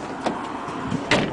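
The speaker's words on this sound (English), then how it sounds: "Close the door" A car door on a BMW E46 swings shut after an adjustment to its door handle, giving a fairly loud, short thud-and-latch sound near the end, with a fainter knock earlier and no talking.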